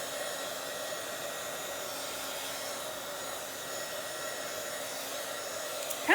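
A hair dryer blows steadily and loudly close by, drying paper butterfly wings in a Bible journal, an even continuous whoosh with a small clunk right at the end.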